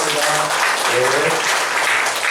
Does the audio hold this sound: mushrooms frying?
no